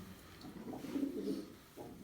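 Soft, low cooing from pigeons, a couple of throaty phrases close by against quiet background noise.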